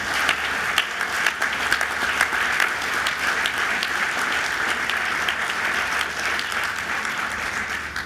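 Sustained applause from an audience at a hospital expansion announcement, honoring the governor, with steady dense clapping throughout, fairly loud and close, no talk over it.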